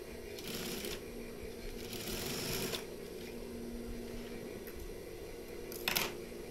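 A sewing machine stitches the pocket flap of a koko shirt in two short whirring runs, followed by a brief third burst, close and moderately quiet over a low room hum.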